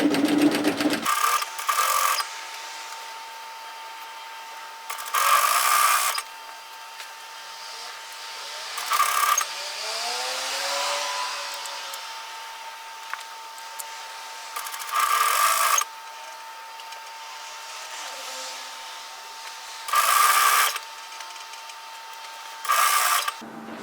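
A sewing machine stitches the drawstring channel of a sweatshirt hoodie dress in several short bursts of rapid whirring, with quiet pauses and fabric handling between them, close and alone.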